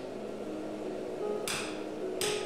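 A hammer strikes a steel billet on an anvil while it is folded during forge welding for a hearth-steel knife. Two sharp metallic blows ring out about a second apart over a steady background hum.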